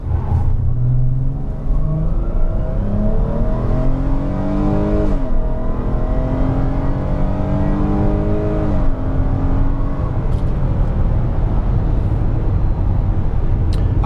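A 2013 Chrysler Town and Country minivan accelerating at full throttle, its engine revving loudly and rising in pitch through several gear shifts, with a brief drop at each upshift before climbing again.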